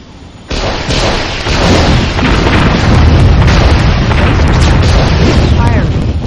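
Laser satellite strike in Warzone 2100 slamming down with a sudden heavy boom, then a sustained loud rumbling roar of explosion that rolls on for several seconds.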